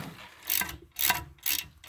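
Ratchet wrench unscrewing a 13 mm bolt during a Ford Edge wheel bearing replacement, with three loud, close bursts of rapid clicking separated by short pauses.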